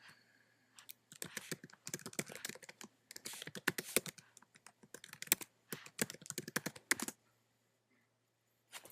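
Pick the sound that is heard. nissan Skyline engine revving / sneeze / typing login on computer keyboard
typing login on computer keyboard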